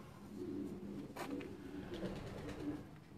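Netherlands-breed racing pigeons coo on a rooftop in Quetta, a few soft, throaty rolling calls close by over a low, steady background hum.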